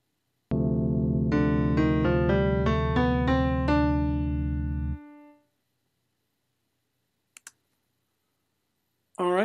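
A jazz scale built on the second degree of the melodic minor, played as an ascending run of sustained, clear notes that ends on a held tone, followed by silence and a couple of faint clicks.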